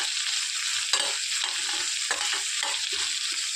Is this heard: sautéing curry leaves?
yes